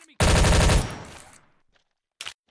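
A burst of rapid automatic gunfire in a first-person shooter video game, loud and close, then decaying echo and a short second sound near the end, with no talking.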